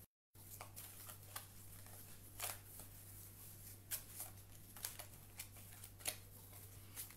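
Oracle cards are shuffled by hand in a quiet room, a run of faint, close riffling and sliding bursts at an irregular rhythm over a low steady hum, with no talk.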